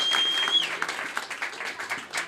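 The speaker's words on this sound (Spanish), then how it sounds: "Un fuerte aplauso" A crowd applauds at a surf contest prize-giving, a brief burst of scattered clapping that thins out and fades toward the end.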